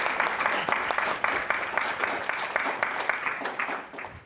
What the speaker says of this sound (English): Can we get another round of applause for our panelists?